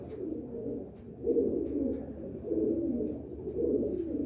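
Low, soft cooing from a red Cheena pigeon with white eyes repeats in steady rolling phrases close by, with light rustling in the background.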